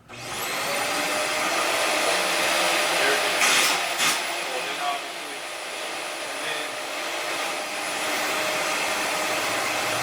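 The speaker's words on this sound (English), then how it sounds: "So I'm going to turn the vacuum on now." A Shark Navigator Swivel Plus upright vacuum cleaner roars steadily at close range, a loud sustained whine with a brief surge partway through, running throughout.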